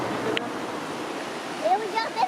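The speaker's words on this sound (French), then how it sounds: "Et regardez la cascade." A waterfall roars steadily as a broad, constant rush of water, with brief faint voices and a few high chirps over it.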